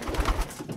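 Pigeons cooing inside a pigeon loft, low soft coos repeating in a steady rhythm at close range, with no speech over them.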